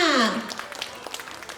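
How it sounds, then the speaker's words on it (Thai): An audience at a primary-school certificate ceremony for a math test claps in a scattered, moderate patter that follows a short vocal sound at the start. "ขอเสียงปรบมือด้วยค่ะ"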